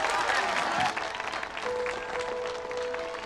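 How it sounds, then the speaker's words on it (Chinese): Warm applause from a gathering fills the space after a closing song at a party, steady dense clapping throughout with a brief dip partway, no speech over it. "赢得大家的热烈掌声。"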